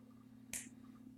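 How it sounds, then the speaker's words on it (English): A single sharp finger snap, close and clear, standing alone over a low steady hum. "Dana loves it when I snap my fingers"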